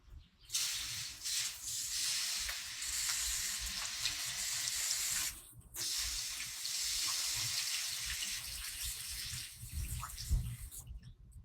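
Water sprays in a continuous hissing rush while houseplants are watered, with a short break near the middle and faint splashing toward the end.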